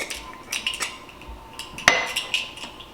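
Dry ingredients for Jamaican beef patty dough, including curry powder, are whisked in a bowl: quick scraping and rustling strokes with light metallic clinks of the whisk against the bowl, one brighter clink standing out.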